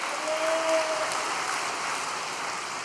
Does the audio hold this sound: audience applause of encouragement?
yes